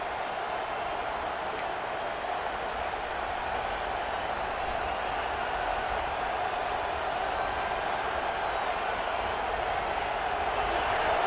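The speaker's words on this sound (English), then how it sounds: "this crowd is coming to help the defense" A steady wash of stadium crowd noise, a broad continuous roar with a faint clapping texture, from a televised Kansas State at Tennessee college football video game.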